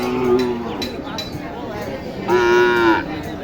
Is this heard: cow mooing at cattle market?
yes